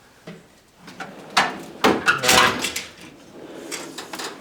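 A few wooden scrapes and knocks as a technician's tool box drawer slides open, with a louder burst of rattling tools near the middle, close by and fairly quiet.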